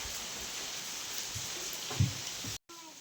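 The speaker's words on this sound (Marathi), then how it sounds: "चांगला पाऊस चालू आहे सकाळ सकाळच" Morning rain falls steadily on a village yard where water pools, a soft continuous patter with one brief heavier thud partway through.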